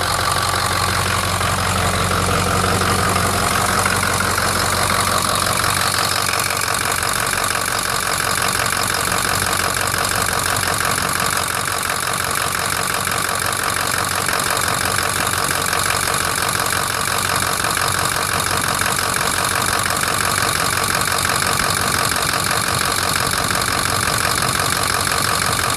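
A Ford 6.0L diesel engine with a blown cylinder idles close up, a loud, continuous rough rumble with an uneven knocking beat running steadily throughout.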